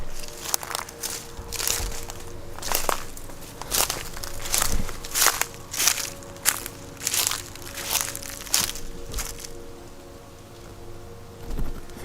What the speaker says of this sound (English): There was a very loud footstep behind me.